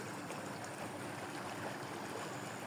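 Water flows beside muddy village fields after rain, a steady broadband rush with no breaks, fairly close and soft, with no talking.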